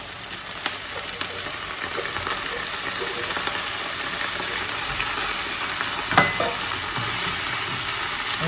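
Onions and garlic sauté in a hot pan with a continuous soft sizzle and occasional stirring scrapes and clicks, close by and with no voices.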